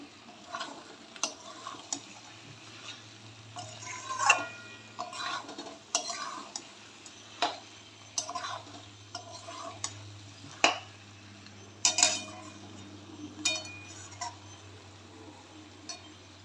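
Liver is stir-fried in a cooking pot: a spoon scrapes and taps against the metal in sparse, uneven strokes, close but fairly quiet over a low steady hum, with no talking.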